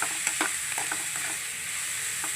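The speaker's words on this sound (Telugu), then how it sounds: "ఇప్పుడు మంచిగా ఫ్రై అవుతుంది కదా" Chicken curry frying in a pan with a steady bright sizzle and several soft stirring scrapes early on, close and moderately loud, with no voices.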